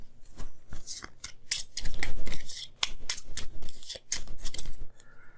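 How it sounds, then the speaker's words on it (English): A brisk, crisp riffling and snapping of playing cards being shuffled, in several quick bursts, close up with no talking. "Shuffle these"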